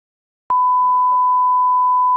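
A single steady electronic beep cuts in abruptly and holds at one unwavering pitch for nearly two seconds, loud and sustained, with faint muffled speech beneath it like a censor bleep.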